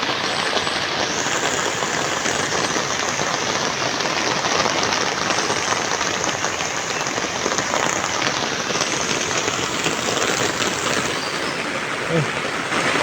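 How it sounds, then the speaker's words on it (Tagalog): Heavy rain pours steadily onto a fishpond and its surroundings, a dense, loud hiss of drops that holds constant throughout with no break. "Lumakas na naman ang ulan."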